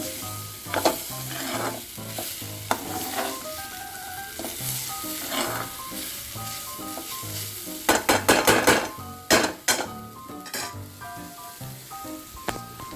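Masala roasting in a pan for cluster bean upma gives a continuous sizzle broken by scraping stirs and a cluster of sharp metallic clinks toward the end, with no voices.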